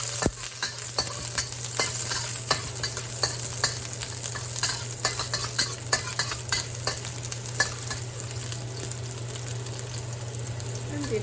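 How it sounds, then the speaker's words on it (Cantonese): Eggs and chives stir-fried in a wok, a steady sizzle with repeated sharp spatula scrapes and clanks, accompanied by a constant low hum of a range hood. "開爐炒佢，快脆嘅一個餸"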